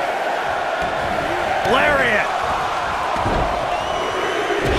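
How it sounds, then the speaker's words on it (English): Roaring arena crowd noise from the wrestling video game WWF Royal Rumble, a loud steady wall of cheering under an excited commentator's voice, with a brief louder swell partway through. "Listen to this crowd."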